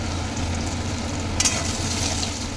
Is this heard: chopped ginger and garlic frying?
yes